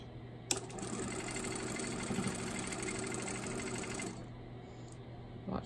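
Sewing machine stitching pieced quilt fabric, a steady close-up mechanical hum with rapid needle rhythm running for about four seconds before stopping, followed by quieter handling sounds.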